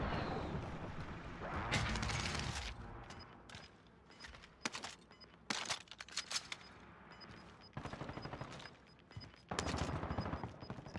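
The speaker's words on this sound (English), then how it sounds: "It's like a sniper machine gun, sniper gun or something." Bursts of video game gunfire from what sounds like a rapid-firing sniper-style machine gun, several loud volleys with short pauses between them, and no talk over the shots.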